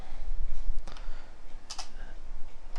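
A few scattered taps and clicks on a computer keyboard while Visual Basic code is typed, close but soft, with short gaps between strokes and no speech.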